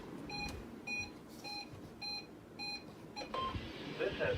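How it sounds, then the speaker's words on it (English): NOAA weather radio weekly test tones play as a series of short, evenly spaced electronic beeps over a faint hiss, ending in a brief steady tone. "This has been a test of the NOAA All Hazards Weather Radio Alarm System."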